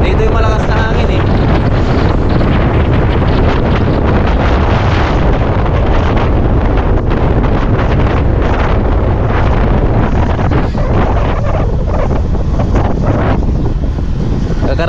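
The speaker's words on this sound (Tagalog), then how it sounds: "Dito yung malakas na hangin eh." Strong typhoon wind sweeps over flooded rice fields, roaring as loud, continuous, close buffeting against the microphone with gusty surges throughout.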